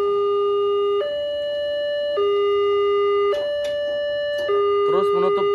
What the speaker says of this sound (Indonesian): Sirine JPL berbunyi dan lampu flashernya